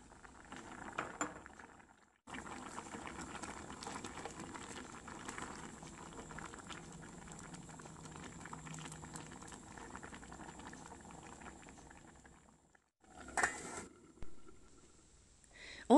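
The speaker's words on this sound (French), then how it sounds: "je rajoute un petit bol de petits pois, le sel, je baisse le feu et je le laisse terminer la cuisson" A pot of food with added peas simmers on low heat, bubbling steadily and softly for the whole stretch, with a brief pause and a couple of small knocks near the end.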